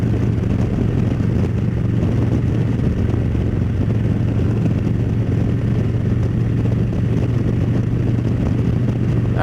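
A motorcycle engine drones steadily while cruising at speed, a constant low rumble with wind noise and no change in pace throughout.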